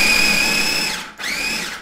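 A food processor whirs loudly, grinding almonds with sugar and an egg yolk for pithivier filling: a steady high motor whine that cuts out briefly, then spins back up.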